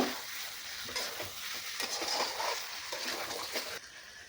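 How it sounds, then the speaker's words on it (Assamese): Tomatoes and spices are stirred in a hot pan while frying for chicken curry, producing a continuous close sizzle with scraping spoon strokes and wet splatter, without any talk. "মিলাই দি মই ইয়াক লৰাই থাকিম"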